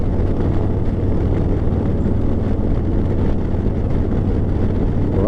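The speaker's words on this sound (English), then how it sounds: "Riding a Harley on the Oregon Trail." A Harley motorcycle rides a road in Idaho along the Oregon Trail with a steady, loud engine drone and heavy wind rush, and no voices are heard.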